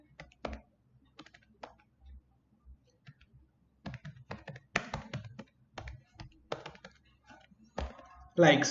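Computer keyboard typing as code is written, quick irregular clicks and key taps scattered across the clip, close and fairly clear, with a person talking in between and over the keystrokes.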